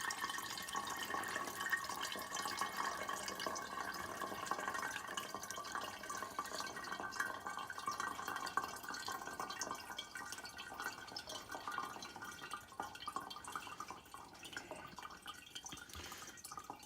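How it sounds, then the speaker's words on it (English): Liquid being poured off gold foils and leftover RAM during gold recovery, a steady faint trickling and dripping that continues throughout. "And what we're doing is separating this liquid from the gold foils"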